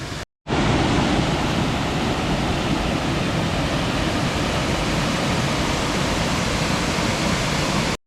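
Aruvikuthu waterfall thunders in a steady, loud roar of falling water, starting abruptly after a brief silent moment and continuing unbroken with no voices.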